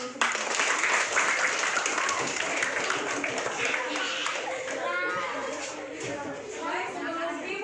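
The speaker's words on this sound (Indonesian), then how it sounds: "Tepuk tangan dulu semuanya." Children in a classroom clapping their hands together, a busy burst of claps mixed with excited voices and chatter that continues as the clapping fades.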